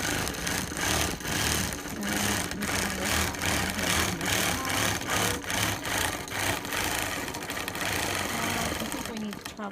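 A sewing machine runs steadily, stitching a printed zombie doll fabric panel, with loud, fast rhythmic mechanical pulsing throughout and a person talking over it.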